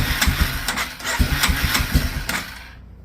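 A small Bear Tracker ATV engine, just back from a carburetor repair with the choke on, sputters through a string of uneven pops as it catches, then settles into a close, rough idle.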